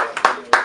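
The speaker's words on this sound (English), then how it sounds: "Let's clap it up." A few sharp hand claps in a hip-hop radio studio interview, two distinct close claps with a softer one before them, heard over a brief murmur of voices.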